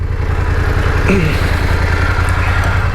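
A motorcycle fitted with Rigid Industries D-SS Pro auxiliary lights idles steadily, a loud, close, even low rumble throughout, with a brief voice-like murmur heard partway.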